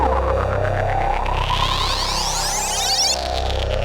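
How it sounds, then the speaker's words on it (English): Three patches layered multitimbrally on a Fred's Lab Manatee synthesizer swell into a dense, fat sustained tone, with bright sweeping upper partials and a steady low drone, loud and continuous throughout with no voices. "Sounding super fat and juicy, but layering 3 patches on top of each other"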